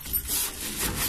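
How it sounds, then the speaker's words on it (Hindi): A wet, wrung-out cloth wiping an oven, a steady soft rubbing and swishing at close range, continuous for about a second with no talking. "अब मैंने जो ये कपड़ा गीला किया हुआ था, इसको निचोड़ा हुआ था, इससे मैं ओवन को साफ़ करूँगी।"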